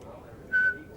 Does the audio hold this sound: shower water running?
no